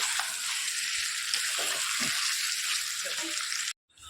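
Meat cooking down in a pan gives a steady, close sizzle with broadband hiss that runs without a break and cuts off abruptly near the end, broken by faint soft knocks from stirring.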